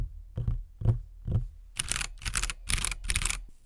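A mechanical keyboard housed in a foam case is typed on, first a few soft isolated key presses, then several louder, denser bursts of rapid clacking close by, with no talk.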